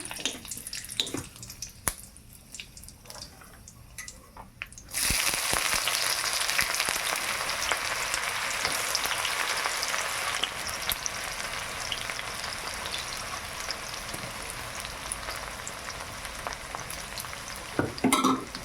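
Whole cardamom, cloves, cinnamon and a dried chilli drop into hot oil with sugar already caramelising for a Bengali chicken kosha, a quiet crackle jumping to a loud, continuous close sizzle that fills the rest.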